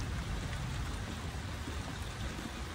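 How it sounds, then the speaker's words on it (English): Rain falls on a caravan roof as a dense, steady patter, quiet and continuous, with no other sounds standing out. "he loves the sound of the rain on the caravan roof"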